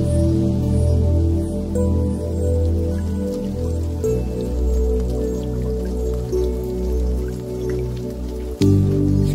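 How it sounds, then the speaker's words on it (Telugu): Rain pours steadily onto an outdoor match-practice ground, a continuous patter of drops and drips that holds at an even, fairly loud level throughout. "ఏమిటో ఈ వర్షం, మ్యాచ్ ప్రాక్టీస్ చేసుకోవడానికి లేకుండా"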